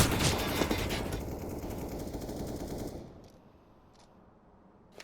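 Rapid SMG gunfire in CS:GO during a Denver LAN match, dense and loud for three seconds, then trailing off into quieter game ambience with a few faint distant shots.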